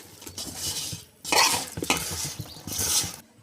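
Snack batter, sprinkled with a little water, being tossed and stirred in a metal pan with a spoon, with bursts of scraping and rustling mixing and a faint sizzle between them, close and fairly loud.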